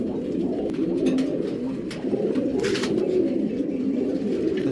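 A pair of racing pigeons cooing indoors, low throaty repeated coos that run continuously and close, with a few soft rustles and chirps.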